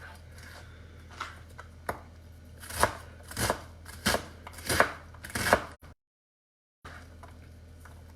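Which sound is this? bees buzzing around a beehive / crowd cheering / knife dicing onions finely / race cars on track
knife dicing onions finely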